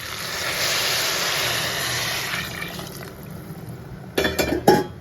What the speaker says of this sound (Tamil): 5 கிளாஸ் தண்ணி சேர்த்துக்கிறேன்.